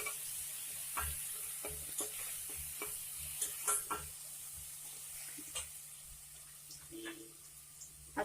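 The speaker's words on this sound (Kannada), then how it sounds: "ಎಣ್ಣೆಲಿ ಫ್ರೈ ಆಗ್ತಾ ಇದೆ ನೋಡಿ, ಗೋಲ್ಡನ್ ಬ್ರೌನ್ ಆಗ್ತಾ ಇದೆ" Ginger-garlic paste and green chillies tempering in hot oil for a restaurant-style mushroom gravy, a steady close sizzle and crackle with intermittent scraping stirs and small pops throughout, no voices.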